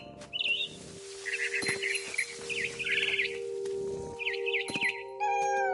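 A frightened bird in What Remains of Edith Finch gives repeated rapid, trilling chirps that are close and fairly loud, with a pause between call groups, over a low ambient drone.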